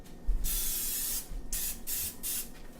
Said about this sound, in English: I'm going to lightly spray my crock.